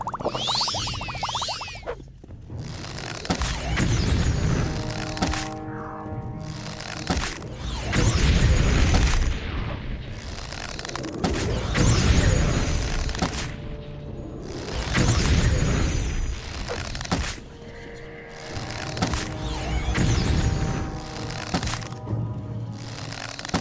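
Spell attacks in Morrowind, poison, ice and fire hitting in bursts: repeated booming blasts and whooshes that swell and fade several times, loud and close, with rattling effects between them.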